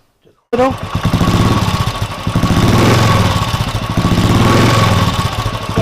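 After a brief silence, a Royal Enfield motorcycle fitted with an aftermarket soft bass silencer starts up and idles loudly with a deep, throaty burble, rising slightly in revs mid-way.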